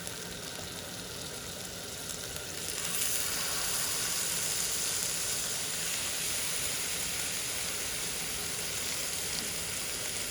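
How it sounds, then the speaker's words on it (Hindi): Chicken tangdi kabab pieces shallow frying in a little oil in a frying pan over medium heat, a steady soft sizzle and hiss that swells after a few seconds and then holds evenly. "अब हम अपने तमाम पीसेस को इस तरह फ्राइंग पैन में थोड़ा सा ऑयल डाल के शैलो फ्राई करेंगे।"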